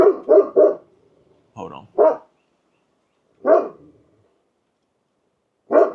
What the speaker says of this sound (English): And I like this dog.